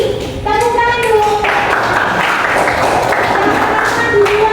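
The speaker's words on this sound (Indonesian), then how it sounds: "Tepuk tangan dulu." Classroom applause after a student's answer, a dense patter of many hands clapping steadily for several seconds, close and fairly loud, with children's voices faintly mixed in.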